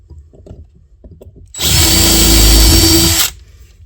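A power drill bores into an aluminum shifter knob with a loud, steady high whine lasting under two seconds, preceded by quiet handling clatter and ending abruptly.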